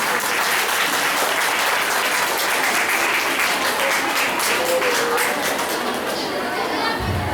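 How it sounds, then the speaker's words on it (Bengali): Loud, dense applause from an audience at an art centre award ceremony goes on without a break, with crowd chatter mixed in, and it cuts off sharply near the end. "জোরে হাততালি সকলে।"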